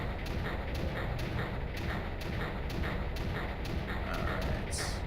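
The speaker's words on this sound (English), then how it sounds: "So much gunfire." Rapid, evenly spaced gunfire from the strategy video game Creeper World, a dense loud stream of repeated shots that runs without pause throughout.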